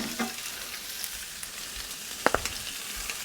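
Vegetables and broth cooking on a Blackstone griddle for Italian sausage and peppers, a broad steady sizzle with a few sharp spatula taps near the end; no talk.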